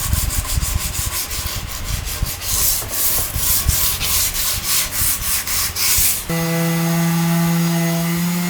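A power tool rounds over the top edge of a wooden counter with a loud, rough, pulsing rasp. It then stops and gives way to a steady whirring hum.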